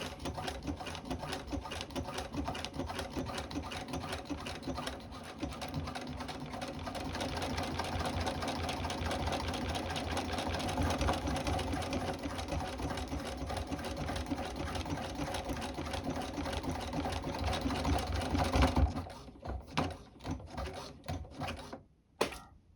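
A Janome sewing machine stitches through thick denim for jeans, a loud, close, steady rapid mechanical whirring and clatter lasting nearly twenty seconds before stopping into a few scattered clicks and knocks, with no talking.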